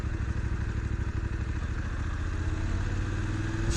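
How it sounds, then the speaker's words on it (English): A Voge DSX 900 motorcycle on the road with a modified throttle, throttling on slowly from a crawl: a steady, pulsing mid-range engine drone with mechanical clatter, close and continuous, rising slightly toward the end. "So we'll pick up the accelerator and we'll throttle on very slowly."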